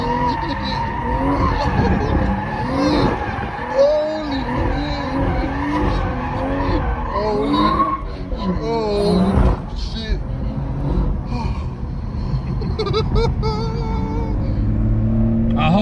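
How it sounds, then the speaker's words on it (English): A 460 bhp stage 2 tuned BMW M240i accelerates hard, its exhaust rising and falling in pitch through rapid revving sweeps, loud and close, while people talk over and between the engine noise. "The exhaust sounds amazing on this."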